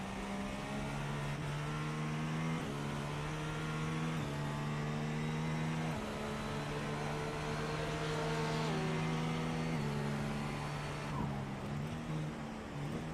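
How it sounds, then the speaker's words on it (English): A race car engine in the iRacing video game at the 12 Hours of Sebring holds a steady drone with gear shifts and revs rising and falling, fairly quiet and continuous. "Car coming off pit road."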